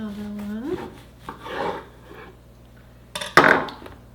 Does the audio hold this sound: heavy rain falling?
no